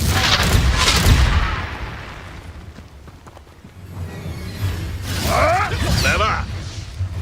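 Confringo fire spell blasts from Hogwarts Legacy, booming fiery explosions with crackling bursts, one early and another after a lull, loud and close over game effects.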